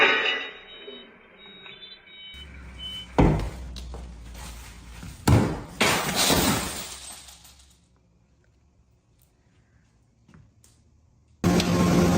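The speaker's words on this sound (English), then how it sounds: "A moment later, the glass shattered and crashed to the ground." Glass shatters and crashes to the ground in loud bursts, with several sharp crashing impacts and debris noise before a quieter stretch and a final abrupt sound.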